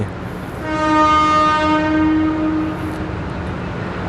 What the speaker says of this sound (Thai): ซึ่งขบวนรถเนี่ยก็กำลังจะออกจากสถานีแล้วนะฮะ